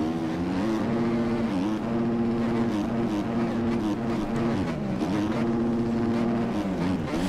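A buzzy motocross bike engine in the video game MX Bikes drones loudly, its pitch rising and dipping as it revs, with a rasping, chainsaw-like whine throughout.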